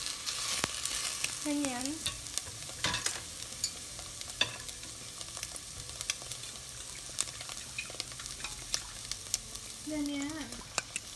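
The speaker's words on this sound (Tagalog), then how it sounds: "i-mix muna natin yung amoy ng fresh onion natin kanina" Fresh onion being stirred with fried tofu in a hot pan, with scraping utensil strokes over a steady low sizzle and a brief voice in the middle.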